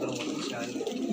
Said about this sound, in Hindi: बहुत प्यारे प्यारे कबूतर आ रखे हैं इस बार